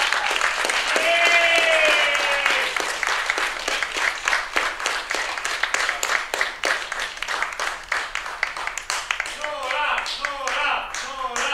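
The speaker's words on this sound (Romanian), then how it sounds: "Și acum o să vă rog să o aplaudați foarte tare" Audience applause at a poetry event in Sibiu, dense clapping sustained over most of the span, with a voice heard at the start and some voice near the end.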